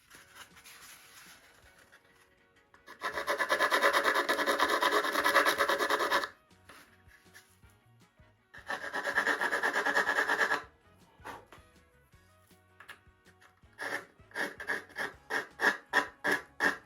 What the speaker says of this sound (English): File a little and then feel for the ridge.